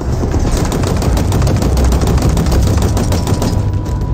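Rapid automatic gunfire from Halo Infinite gameplay, a dense continuous burst of shots that stays loud and steady throughout.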